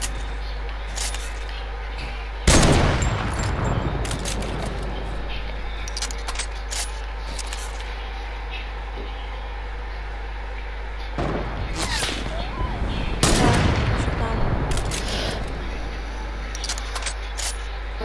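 Gunfire in the video game Fortnite: scattered sharp shots, with two loud bursts and several quicker cracks over steady game background, close and fairly loud, and no talking over them.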